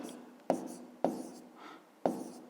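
Pen or chalk writing numbers for a fifth-grade maths exercise, three sharp taps each followed by a brief scratchy stroke, close up, under a faint voice.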